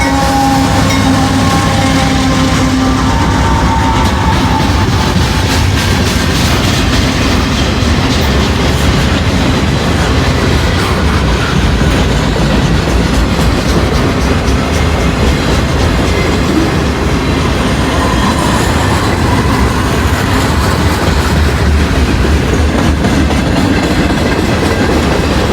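A northbound NS or CSX freight train rolls past very close beside a rail yard, loud and steady throughout, with continuous wheel rumble and rhythmic clickety-clack of cars over the joints.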